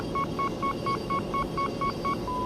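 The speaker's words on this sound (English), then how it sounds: "That sound is the solid lock tone." Rapid string of short electronic beeps repeating evenly, then settling into one steady continuous tone (a solid missile lock tone in the video game 3D Velocity), over a low rumbling hum.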